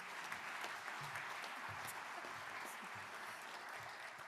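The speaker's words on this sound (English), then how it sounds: "Chantel, if you guys could give her another round of applause." Audience applause at a convening, a steady wash of clapping from a room of people lasting the full stretch at even strength, with faint voices mixed in.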